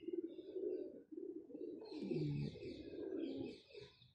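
Pigeons coo steadily at close range on a rooftop loft, low throaty warbles repeating throughout, with a brief brighter flutter or chirp-like burst in the middle and no talking.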